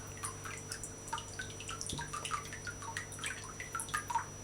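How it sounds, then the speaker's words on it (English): Steady water drips and small trickles patter close by from a handmade paper mold, irregular and fairly quiet over a low background hum. "Let some of that water come out"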